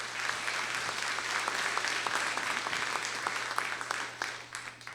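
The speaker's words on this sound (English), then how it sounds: "Let's give a big round of applause." An audience applauds at an evening event, a steady, moderately distant wash of many hands clapping with a low hum underneath, tapering off at the end.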